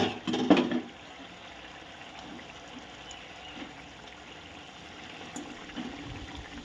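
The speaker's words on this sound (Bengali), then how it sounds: "এবার আমি এর মধ্যে ভেজে রাখা মাছগুলোকে দিয়ে দেবো" Fried katla fish is dropped into boiling water with a brief splash and bubbling burst at the start, followed by a quieter steady bubbling and simmering that continues close by, without any talking.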